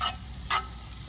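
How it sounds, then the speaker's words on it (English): Sausage browning in a pan for biscuits and gravy at a campsite, a close, steady sizzle with a couple of brief louder bursts as it is stirred. "I'm browning the sausage for biscuits and gravy."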